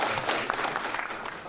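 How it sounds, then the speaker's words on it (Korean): Audience applause at an industrial competitiveness forum event, a short burst of dense, steady clapping from a seated crowd that fills the whole moment without any voice over it. "사랑의 박수 부탁드립니다."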